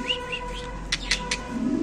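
Large jumbo-sized exhibition pigeons at a market sale give bird calls, with a few sharp chirps and brief cooing close by over a steady low hum.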